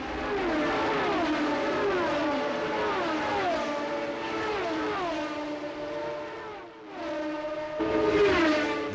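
Formula One racing cars of the 1978 season, led by two Lotuses, scream along the start-finish straight, their engine notes sweeping down in repeated Doppler passes, loud and continuous with no talk.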